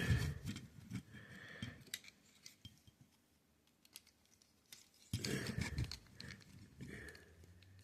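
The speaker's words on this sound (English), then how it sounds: "so I will bring out my trusty pencil to pop them out." Plastic parts of a Transformers Sideswipe toy being popped loose with a pencil, producing sharp clicks and scraping snaps in two busy bursts separated by a quieter stretch of small taps, close up.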